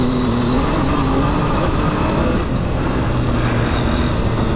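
Triumph Tiger adventure motorcycle, 800 or 1200, revving hard off-road, a steady rough engine drone with rising throttle, heard fairly close over wind noise.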